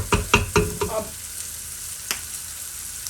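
Bitter gourd and mutton frying together in a pan, with a burst of loud scraping stirs in the first second, then a quiet, faint sizzle and one more brief stir near the end. A single short word is spoken.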